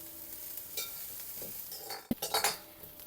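Onion for kande pohe sautés in a pan with a soft, steady sizzle, then a spoon stirs and scrapes against the metal in a short clattering burst near the end.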